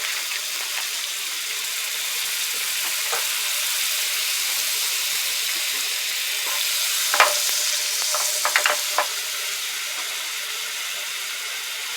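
Avocado oil and a tablespoon of butter sizzle in a pan over medium-high heat, producing a continuous close frying hiss with a few sharp spits and pops partway through and no speech.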